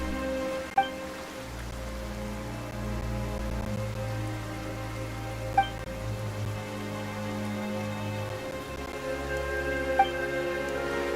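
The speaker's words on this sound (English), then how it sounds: "Why is it raining all of a sudden?" Steady rain falling in the video game Genshin Impact, a soft continuous patter on surfaces with faint drops, with a few sharp chime-like ticks spaced several seconds apart and no talk.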